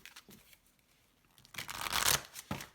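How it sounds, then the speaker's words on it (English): A tarot card deck being shuffled, with a few soft riffles early on, then a louder, dense burst of card flutter in the second half that ends in a final riffle. "This deck is so hard to shuffle."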